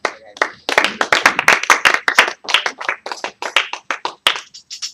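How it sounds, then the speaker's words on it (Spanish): A church congregation claps in sharp, quick bursts for about five seconds, close and fairly loud, with brief gaps between runs of claps and no voices. "Hay que darle un aplauso, amén."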